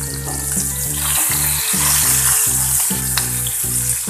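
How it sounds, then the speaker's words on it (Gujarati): Gunda (glue berries) fry in hot oil with a loud, continuous sizzle, while a spoon stirs them in repeated rhythmic scrapes and knocks against the pan. No voices are heard. "આ રીતે આપણે ગુંદાને વચ્ચે વચ્ચે હલાવતા જવું જેથી બધા જ ગુંદા એકદમ સરસ રીતે તેલમાં તળાઈને તૈયાર થઈ જશે"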